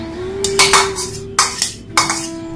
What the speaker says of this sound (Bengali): এখন আমি সেই মাংসটা এই পোলাওটার উপরে দিয়ে দিচ্ছি